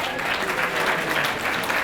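Sustained applause from a banquet audience at a university athletics awards dinner, steady and dense throughout, with no gaps.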